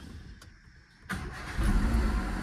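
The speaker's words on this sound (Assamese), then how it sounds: "চাউণ্ড শুনিছে মানে, চাবিটো গোটেইটো ঘূৰিবই নাপালে, মানে ষ্টাৰ্ট হৈ গ'ল।" A used car for sale starts with a single turn of the key after sitting unstarted all day: a short click, a brief crank, then the engine catches and settles into a steady, fairly loud idle nearby.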